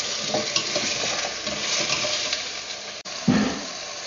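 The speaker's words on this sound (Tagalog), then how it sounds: "Give it a stir for a minute." Carrot, butternut squash and broccoli stirred in a hot pan for vegetarian caldereta, steady sizzling and frying with spatula scrapes, plus a sharp clink of utensil on pan near the end.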